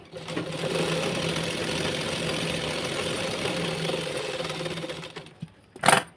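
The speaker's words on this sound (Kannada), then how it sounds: "ಲೈನಿಂಗ್ ಮೇಲೇ ಒಂದು ಸ್ಟಿಚ್ನ ಹಾಕಬೇಕು" A sewing machine runs steadily while stitching the lining of a blouse, a close, continuous mechanical whir that holds for about five seconds before stopping, followed by a couple of brief handling clicks.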